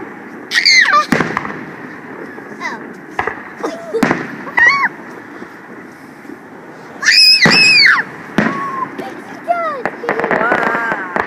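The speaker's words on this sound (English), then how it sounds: "The world's not gonna end because of these fireworks." Fireworks burst outdoors in sharp, loud pops and crackles, several in a row, while excited voices shout and squeal over them.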